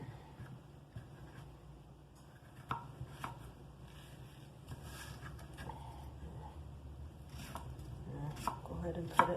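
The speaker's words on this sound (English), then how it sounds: "And cut it in bite-sized pieces." Knife chopping chicken and vegetables into bite-sized pieces on a cutting board for homemade chicken soup (caldo de pollo), a run of quiet, close, irregular taps and cuts with faint clinks of kitchen ware.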